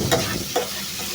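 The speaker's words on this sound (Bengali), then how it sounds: "তারপর ভালোভাবে নেড়ে চেড়ে একদম সুন্দরভাবে কষিয়ে নেব" Bitter gourd and lentils are stir-fried in a pan, a close sizzle broken by two quick scraping stirs, with no voices.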